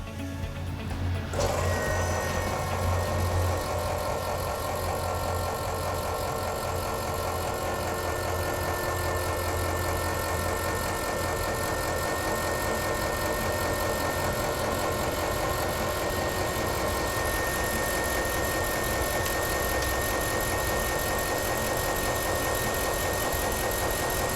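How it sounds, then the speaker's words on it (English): An Airdog fuel system pump runs while priming after a fuel filter change, giving a steady, close mechanical whir and hum with a faint ratcheting edge that holds without pause throughout. "the pump runs for 10, 15, 20 seconds, then it shuts off"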